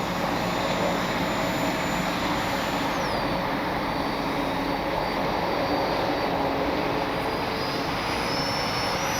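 Arrows F-86 64mm RC electric ducted-fan jet flying under power, a continuous loud whooshing whine that holds steady throughout, with a faint pitch shift partway.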